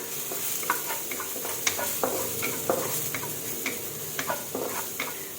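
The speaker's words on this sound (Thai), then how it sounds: "ค่อยๆผัดไปอ่อนๆให้หอมกรอบนิดนึงนะคะ" Aromatics with chili are stir-fried gently over low heat for Thai salt-and-chili shrimp. A soft continuous sizzle sits under light, scattered spatula clicks against the pan.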